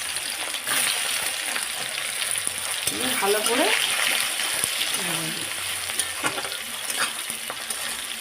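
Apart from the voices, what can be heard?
onion, chili and bay leaf frying in oil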